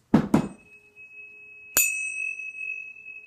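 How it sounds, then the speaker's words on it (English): High-frequency tuning forks ring out in a quiet room: after two soft knocks, a sharp strike near two seconds sets off a bright, sustained pure tone that hangs steadily alongside a lower faint hum. "I'm going to start with the high frequency forks and then move to the chimes"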